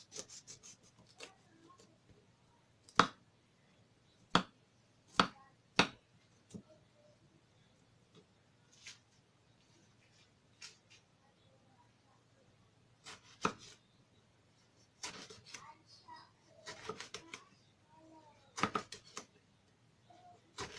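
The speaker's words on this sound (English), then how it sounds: "And now I'm going to cut my aubergine into pieces." Knife chopping aubergine into pieces on a board, with scattered sharp close cuts and some quick clusters of strokes over a quiet room hum, no talking.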